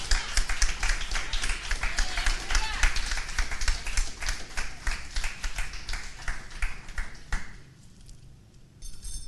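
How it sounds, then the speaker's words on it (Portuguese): A church congregation claps and applauds at a worship service, dense steady clapping mixed with a crowd, then thinning out near the end. "Pode aplaudir o Senhor"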